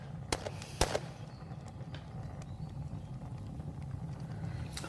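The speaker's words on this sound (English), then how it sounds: "The gunfire's getting closer." Sharp gunshot cracks from a radio drama battle, two close loud reports in the first second and fainter scattered pops later, over a steady low rumbling background.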